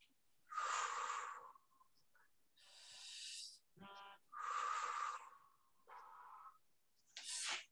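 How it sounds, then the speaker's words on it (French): Breathing during a full-body Pilates strengthening exercise: several close, loud breaths in and out, alternating in a slow even rhythm, heard alone with no talking. "Et on fait 3 respirations."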